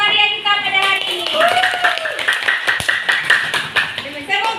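A class of fourth-grade primary schoolchildren applauds together in a classroom, a dense burst of clapping lasting several seconds while voices and chatter carry over it.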